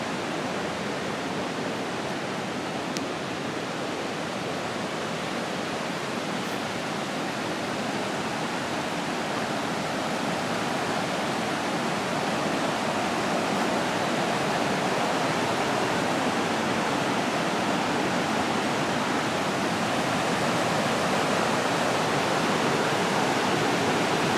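Water tumbles over little step falls along a river in a dense, continuous roar, close and even throughout.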